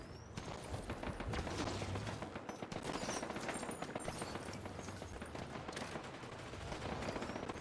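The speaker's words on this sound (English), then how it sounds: "Gunfire right out there." Rapid bursts of gunfire crackle outside, faint and distant, a dense stream of sharp reports running continuously without speech over them.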